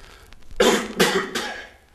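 Three harsh coughs come in quick succession from one person, close and loud with no talk over them.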